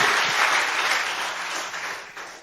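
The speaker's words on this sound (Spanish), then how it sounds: "Un fuerte aplauso al Señor" Sustained applause from a church congregation fills a worship service, a dense wash of clapping that slowly tapers off.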